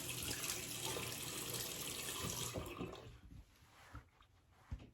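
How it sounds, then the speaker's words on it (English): Lukewarm water runs steadily from a sink tap as a face is rinsed, then the flow stops and a few scattered splashes and drips follow, quiet and close with no talking. "I'm going to go ahead and wash it now with lukewarm water"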